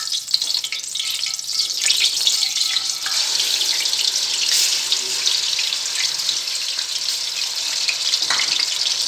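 Steady, bright sizzling of hot ghee tempering sarson ka saag with garlic-ginger paste fills the whole stretch, loud and close, with faint scraping from stirring underneath.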